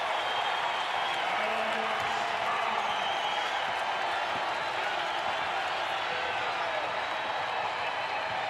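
A college basketball arena crowd at Boise State roars and cheers steadily during an NCAA game against Utah State, a loud, unbroken wash of many voices.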